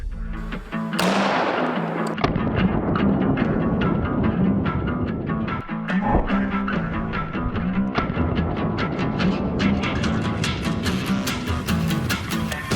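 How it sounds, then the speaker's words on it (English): A T6 rifle firing supersonic solid copper 300 Blackout rounds into ballistic gel, a sharp loud report followed by a rapid string of close, cracking shots over a continuous heavy roar, no speech. "What we just saw was a T6 rifle shooting some Hyperion munitions, veteran ammo branded solid copper, supersonic 300 blackout."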